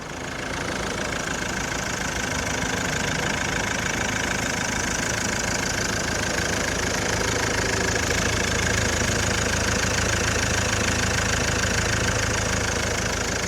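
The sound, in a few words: van engine running smoothly after a service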